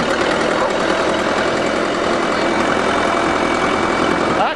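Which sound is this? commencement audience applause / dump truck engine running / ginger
dump truck engine running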